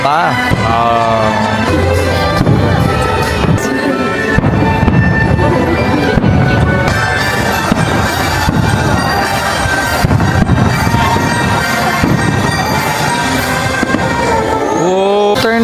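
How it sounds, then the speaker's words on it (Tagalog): Fireworks bursting over Tokyo Disneyland in a continuous barrage of loud bangs and crackles, with music and crowd voices underneath throughout. "Ang sabi sa amin, magkaka-fireworks daw."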